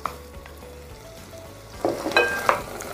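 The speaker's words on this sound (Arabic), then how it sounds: "نقلب الثوم شوية" Garlic fries in hot oil in a pot for okra stew, a soft steady sizzle that swells into louder crackling and spoon scrapes as it is stirred near the end, with no talk.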